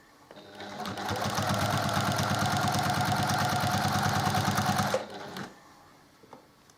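Sewing machine running steadily for about four seconds, stitching a quilt block with a fast, even motor hum and rapid needle chatter, then stopping abruptly with brief faint handling afterward.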